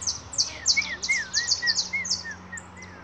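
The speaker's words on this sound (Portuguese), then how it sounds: "Papai está olhando que esse passarinho bonito" A small bird chirps rapidly in a quick series of high, bright tweets, close by in a backyard, over a quiet low hum.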